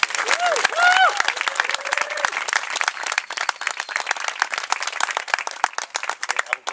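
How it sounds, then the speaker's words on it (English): Crowd applause at an outdoor Black Lives Matter rally in Fullerton, a burst of many hands clapping that thins out and continues unevenly, with whistles and voices early on. "So why don't we give them a big round of applause."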